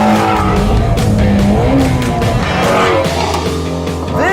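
A Ford Mustang V6 revs hard with rising and falling engine tones while its tires squeal and skid, loud and close throughout.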